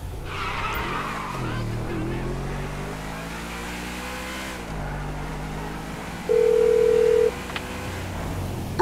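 A speakerphone call in the video game Grand Theft Auto 5 plays over a driving car's engine hum and revving, with a steady electronic tone appearing briefly partway through.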